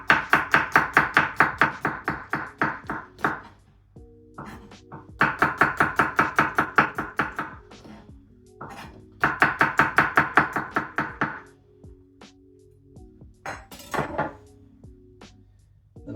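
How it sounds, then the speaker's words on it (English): Three garlic cloves sliced with a knife on a board, fast rhythmic bursts of crisp chopping taps, close and loud, with short pauses and a few softer knocks between runs. "then three cloves of garlic sliced"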